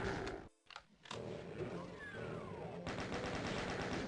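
Chaingun fire in Doom II, with rapid bursts of shots and gunfire clatter mixed with other game sounds, continuous and fairly loud.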